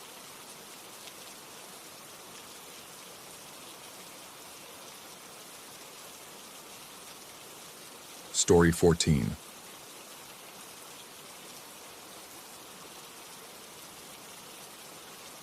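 Steady rain falls continuously in a soft, even hiss, low and constant throughout, with a brief spoken voice breaking in about halfway.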